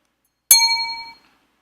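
A single bright glassy chime used as a success sound effect, one clear ringing ping that starts sharply and fades out within about a second, close and alone.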